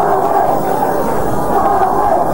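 A crowd of around 20,000 at a 1990 Gaelic football championship match produces a loud, steady murmur and roar that fills the whole moment.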